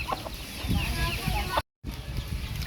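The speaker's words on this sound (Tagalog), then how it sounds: "ito na pala yung Brazilian Rapido na hen ko" A Brazilian Rapido hen clucks in a backyard with repeated close, fairly loud clucks and a short dropout, while a person talks faintly in the background.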